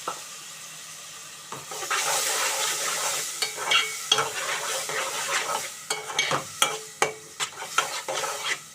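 Chopped tomatoes go into a hot pot for Telugu-style bottle gourd dal, starting with a soft sizzle, then steady frying hiss broken by sharp scrapes and clinks of a spoon stirring against the metal pot.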